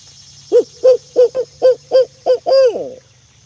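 A bird calls in a series of about eight rhythmic hooting notes, the last one drawn out, clear and fairly close.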